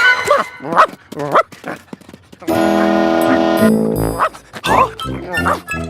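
A cartoon dog barks in short bursts while fetching a stick amid people talking, with a sustained tonal hum or whine in the middle of the clip.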